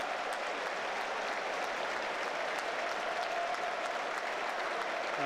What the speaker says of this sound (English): That's why there are applause around us.